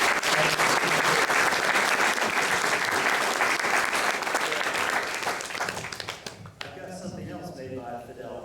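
Dinner audience applauding warmly for a couple, a dense sustained wave of clapping for about six seconds that then thins out and fades, with a few scattered claps and murmuring voices at the end.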